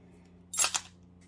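Keys and small metal charms clink and rattle as they are handled in a bowl, a single short burst of jingling close to the microphone over a quiet background.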